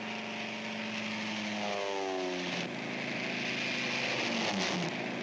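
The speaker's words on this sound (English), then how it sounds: "These are the first ships to take off in the airborne invasion of Fortress Europe." WWII propeller transport planes take off for the Normandy airborne invasion, loud droning engines passing close with a Doppler pitch drop, and a second plane follows steadily with no voices.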